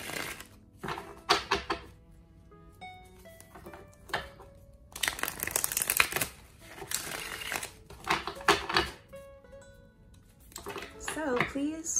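A Game of Thrones tarot card deck is shuffled up close, with bursts of papery riffling and flicking that alternate with quieter gaps and soft handling noises, and a voice is heard briefly near the end.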